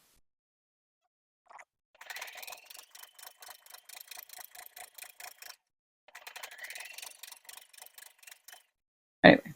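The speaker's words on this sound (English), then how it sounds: "Just a built-in simple serger stitch, but like I said, you can use a zigzag stitch, whatever." Built-in serger stitch on a sewing machine running along fabric edges, two rapid mechanical whirring runs of even stitching with a pause between and a sharp knock at the end.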